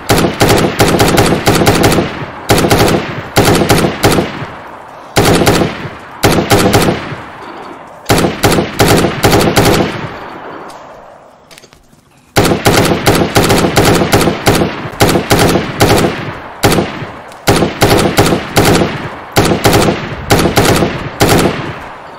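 Dense bursts of machine gun and rifle fire in a DayZ gunfight, loud and close, coming in rapid rattling volleys separated by short pauses, with a brief quieter stretch in the middle before the shooting resumes.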